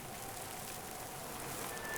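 Rain falling on a small, bare house in a fantasy video game, a steady soft hiss of drops, faint and even throughout, with no voices.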